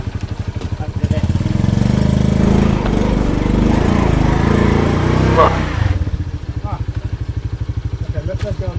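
A Honda motorcycle engine pulling in first gear on a ride from the Netherlands to Australia, loud and close, with a steady throbbing drone that swells, then drops back to a pulsing idle-like beat.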